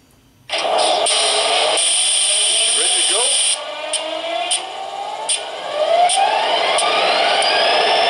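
MTH Premier model Metra F40PH diesel locomotive sound system running an extended engine startup, with high whining and hissing tones, rising turbine-like sweeps and repeated short bursts over a steady drone.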